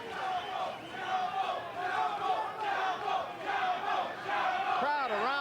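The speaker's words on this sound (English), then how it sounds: "Crowd around the ring, very supportive of Chapo Rosario." Dense boxing-arena crowd cheering and shouting around the ring during a 1987 bout between Julio César Chávez and Edwin Rosario, a steady roar of many voices throughout with a rising whistle-like sweep near the end.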